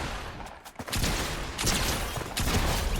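Rapid bursts of video-game gunfire from a solo battle-royale match crack out in loud, dense volleys, with a brief lull before the shooting picks up again and continues steadily.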